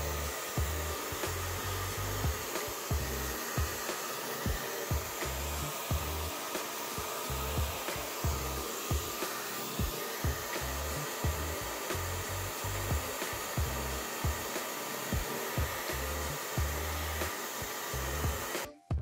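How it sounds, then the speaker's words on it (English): A hair dryer drying paint on a shirt blows with a steady, loud whir from start to finish, with faint rubbing and knocking underneath. No one speaks. "I'm using hairdryer to dry paint so I can wear this shirt"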